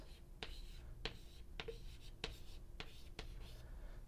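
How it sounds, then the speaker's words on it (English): Notes are written by hand during a chemistry lecture on mass spectrometry, a series of about six crisp, evenly spaced stroke taps over a faint steady background hum. "So I'll write that down here"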